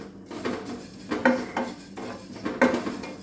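Sesame seeds roasting in a pan on a high flame, heard as repeated scraping and clinking of a spoon against the metal pan, with a few sharper knocks in an uneven stirring rhythm.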